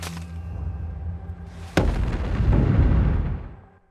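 A sharp, loud crack of a single sniper rifle shot cuts through a low rumbling background, followed by a long, rolling echo that slowly fades.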